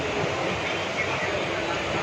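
A train rumbles steadily along, a dense continuous roar of carriages in motion heard from inside.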